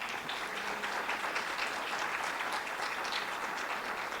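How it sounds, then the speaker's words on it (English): An audience at a community event applauds, a dense, even wash of many hands clapping at once, sustained throughout and cut off at the end. "Please clap for State Representative Munira Abdullahi"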